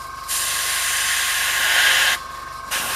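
An airbrush hisses as it sprays paint onto a Blood Angels drop pod model, a loud steady spray lasting about two seconds, briefly cut, then starting again, close with no talking.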